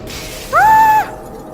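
A glass panel breaks in Half-Life Alyx, a single sharp shattering burst with a bright ringing tone that lasts about half a second and stands alone against a quiet background.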